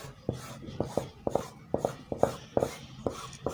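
Scissors snip through fabric while a playsuit pattern is being cut, a run of about eight crisp, evenly spaced cutting strokes close to the microphone, quiet and without talk.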